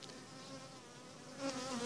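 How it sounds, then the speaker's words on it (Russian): Bees hum steadily at a small nucleus beehive outdoors, a continuous close buzz of many insects with harmonic drone, swelling slightly louder toward the end, no voices present. "пчелки работают."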